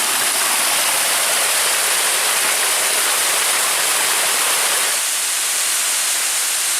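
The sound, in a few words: small waterfall in forest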